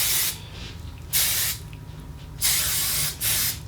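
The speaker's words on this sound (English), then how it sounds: "This is like a really good alternative to the Got To Be hairspray" Hairspray misted onto hair in three distinct hissing bursts, close and loud, with quieter pauses between them.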